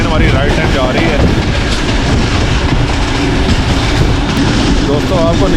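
A Rawalpindi passenger train runs on rails in rain, a steady loud rumble of wheels and carriage noise filling the whole stretch with faint squeals now and then, heard from inside the moving train.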